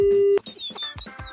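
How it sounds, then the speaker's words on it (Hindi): Steady telephone line tone after a prank call is hung up, a single flat beep that ends abruptly and is followed by clicks and other brief sounds. "भाई साहब ने फोन काट दिया"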